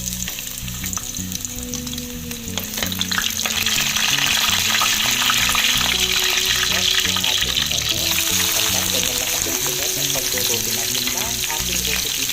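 Garlic dropped into hot oil fries with a loud, steady sizzle and crackle that holds close and continuous for the whole stretch.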